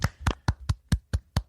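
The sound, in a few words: applause for a guest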